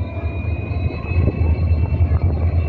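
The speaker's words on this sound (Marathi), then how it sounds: "या ठिकाणी खूप स्लो पद्धतीने या ठिकाणी रेल्वे जात आहे" A train moving slowly along the newly opened Nagar–Beed railway line, a low steady rumble with rhythmic wheel thumps and a faint high whine, close and fairly loud with no talk.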